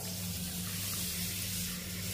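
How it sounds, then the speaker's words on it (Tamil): Water pours steadily over ragi (finger millet) grains in a bowl, making a continuous close rushing splash, like water from a tap, that lasts throughout with no speech. "பாத்திரத்தில் இதை நல்லா தண்ணி ஊற்றிக்கிடுவோம்"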